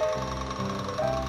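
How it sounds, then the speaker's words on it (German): A jackhammer pounds at a street construction site just outside an apartment window, a steady rapid mechanical rattle with droning tones, heard through the window at moderate loudness. "das hier ist jetzt die 18. Baustelle in meiner Straße direkt vor meinem Fenster"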